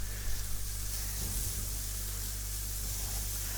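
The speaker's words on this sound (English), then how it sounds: "it's sizzling nicely away here" Chicken sizzling in a pan without fat, a steady close hiss running evenly throughout under a low hum.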